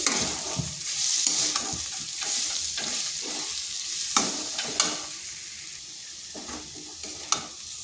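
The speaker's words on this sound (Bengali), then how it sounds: "আর দিয়ে দিচ্ছি এক চামচ টমেটো সস এরপর ভালোভাবে এগুলোর সাথে মিশিয়ে নিচ্ছি" A spoon works through an onion mixture with tomato sauce in a frying pan, with a soft continuous sizzle broken by irregular scrapes and taps against the pan, close and unaccompanied by speech.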